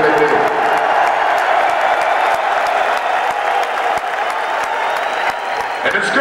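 A large arena crowd at a Pantera concert in Philadelphia keeps up continuous applause and cheering, a dense roar of clapping heard from within the audience.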